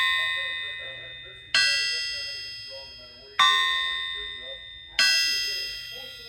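A Bryant or Winberg crankshaft rings as its snout is tapped lightly, four clear metallic strikes, each a bright bell-like tone decaying slowly, spaced about 1.7 seconds apart, close and alone.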